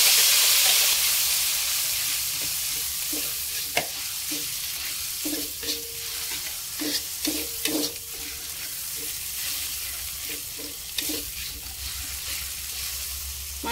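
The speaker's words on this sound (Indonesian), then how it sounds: "Setelah minyak panas, kita masukkan bumbu yang sudah dihaluskan tadi." Ground spice paste frying in hot oil in a wok, a continuous loud sizzle and hiss with repeated stirring scrapes and clacks of a utensil throughout.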